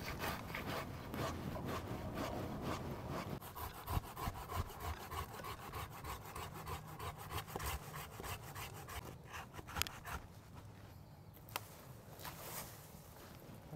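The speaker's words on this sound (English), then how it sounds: "having a really good pruning saw will make quick work of even thicker branches" A sharp pruning saw cuts through an elderberry branch close to its base in a garden, giving steady, rhythmic rasping strokes of wooden scraping that continue throughout, heard up close with no talking.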